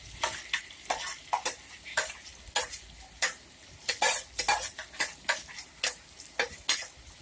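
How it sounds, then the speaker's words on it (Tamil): Mashed potato stirred into fried onion and tomato in a pan for potato kurma: a close, rhythmic run of sharp scraping spoon strokes over a light sizzle, with no talking. "அது நல்லா மிக்ஸ் ஆகிற அளவுக்கு அது நல்லா கலரி விட்டுக்கோங்க"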